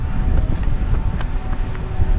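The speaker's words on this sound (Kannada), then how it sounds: "ಎಷ್ಟು ಗಾಳಿ ಇದೆ ಅಂದರೆ ನೆಕ್ಸ್ಟ್ ಲೆವೆಲ್" Strong wind on a hilltop in Vijayanagara district buffets the microphone in a steady low roar, gusting without pause and drowning out everything else.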